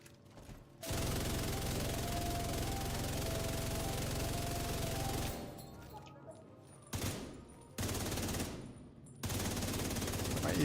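The Division 2 gunfire: sustained automatic bursts run loud for several seconds, then shorter volleys come in separate bursts with brief pauses between them.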